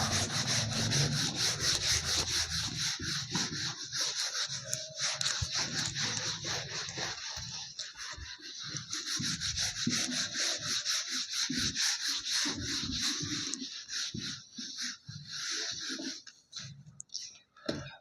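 Steady rubbing of an object in a physics demonstration on ray optics, a dry continuous scraping texture that runs for most of the stretch, with faint talk partly beneath it toward the end.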